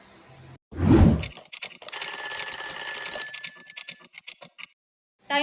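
A quiz-show countdown timer rings in a loud burst, then a sustained bell-like tone with steady pitched overtones runs for over a second before breaking into choppy fading pulses and a short final sound.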